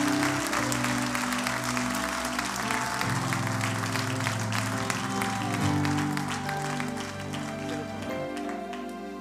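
A church congregation applauding during a worship service, continuous loud clapping from a crowd with music playing underneath and a few faint voices mixed in.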